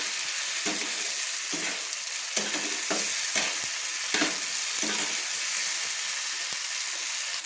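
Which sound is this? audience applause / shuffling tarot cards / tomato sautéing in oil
tomato sautéing in oil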